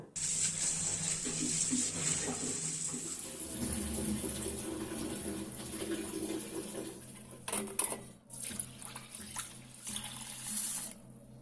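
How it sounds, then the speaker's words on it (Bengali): Lentils being washed under a running kitchen tap, with a continuous close splash of water, a brief pause and shifting swirls as the grains are rinsed, no voices. "এবার এগুলোকে ভালোভাবে ধুয়ে ভিজিয়ে রাখবো ত্রিশ মিনিটের জন্য"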